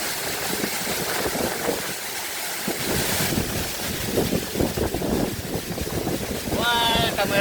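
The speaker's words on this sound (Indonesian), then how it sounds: "Anginnya kenceng banget." Strong wind gusts roar near the Curug Cipadaranten waterfall on a trek, a steady loud broadband rush buffeting the microphone with water noise underneath, and a brief voice near the end.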